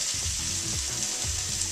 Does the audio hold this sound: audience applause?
no